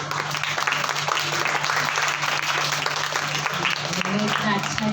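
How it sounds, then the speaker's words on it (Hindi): Young children at a summer camp clap together in a thank-you, a dense, steady patter of many small hands, loud and continuous, with a faint low hum running underneath. "पूजा दीदी के लिए ताली बजाकर उनका थैंक यू करें।"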